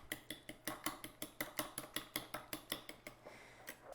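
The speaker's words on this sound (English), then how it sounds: "I'm just gonna start by kind of forking it into the egg mix" A fork taps and scrapes rhythmically against a bowl while stirring miso into freshly whisked eggs, giving steady, close clicks about four to five per second with no talking.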